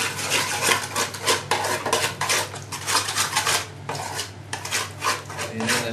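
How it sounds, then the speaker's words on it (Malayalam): Ingredients are stirred together in a bowl, with a spoon scraping and clinking against the sides in a steady rhythmic swirl and no talking. "എന്നിട്ട് ഇത് എടുത്തു കഴിഞ്ഞ് ഇതിനെ നല്ലപോലെ മിക്സ് ചെയ്യും"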